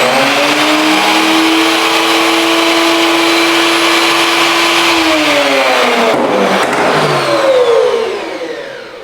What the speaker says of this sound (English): I'm going to start the motor.